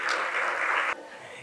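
A brief burst of steady clapping from a luncheon audience at a chamber of commerce event, cutting off abruptly to quiet room tone.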